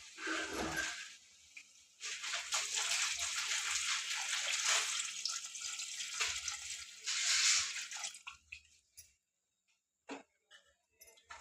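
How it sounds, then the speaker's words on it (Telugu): Water is poured into a cooking pot in a home kitchen, making a bright splashing rush that runs for several seconds, pauses briefly, surges again, and then gives way to quiet clinks and drips. "ఇప్పుడు తగినన్ని నీళ్ళు అయితే పోసుకొని ఉడకబెట్టుకోవాలా"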